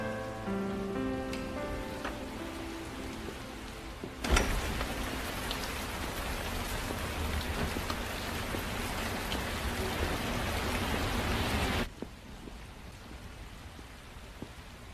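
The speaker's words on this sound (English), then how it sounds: "Starting to rain again, Martha." Rain falls steadily as a dense patter, swelling abruptly into a heavy, close downpour that lasts several seconds before dropping back to a softer background shower.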